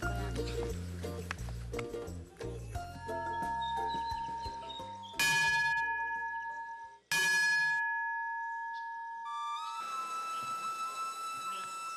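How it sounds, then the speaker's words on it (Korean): Worship-time bell at a Buddhist temple in Sri Lanka rings out with sustained metallic tones that hang and decay, mixed with music and other layered sounds throughout. "예불 시간을 알리는 종소리가 경내에 울려 퍼졌습니다."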